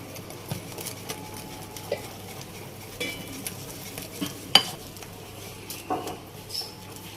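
Flour being stirred into dough ingredients in a bowl for crispy wheat-flour biscuits, soft scraping and patting with scattered light clinks of a utensil against the bowl.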